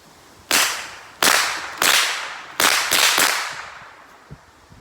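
Sharp gunshots at a shooting range, with the bullet breaking the sound barrier and producing a sonic boom crack; four to five loud cracks in quick irregular succession, each trailing off in a long echoing decay.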